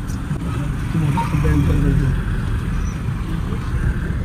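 A car edging along a potholed road near a divider on a trip near Mumbai and Thane, with a low engine rumble and road noise under an ongoing voice.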